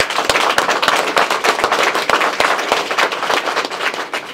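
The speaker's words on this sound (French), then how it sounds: "On applaudit s'il vous plaît." A crowd at a Paris political rally for a Côte d'Ivoire presidential candidate bursts into loud, close applause, dense clapping with sharp individual claps popping through.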